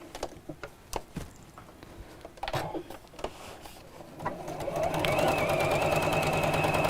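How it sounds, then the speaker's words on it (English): A sewing machine stitching two fabric pieces right sides together around a curve; soft handling clicks and taps come first, then the motor starts a steady, close whirring hum that runs to the end. "So I'm going to sew from this side."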